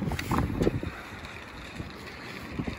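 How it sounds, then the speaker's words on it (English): Wind buffets the microphone in low rumbling gusts, loudest early on and easing into a steady outdoor whoosh. "It's very windy out here right now, so I hope that you can hear me and not the wind."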